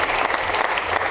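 An audience in a studio quiz show claps briefly, dense applause from many hands filling the whole short moment.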